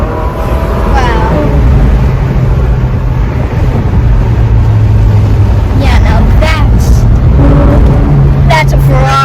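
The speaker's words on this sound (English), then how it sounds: "That's a Ferrari. Ferrari 458 Spider." Ferrari 458 Spider driving, a continuous loud engine drone with shifting tones, overlaid by people talking.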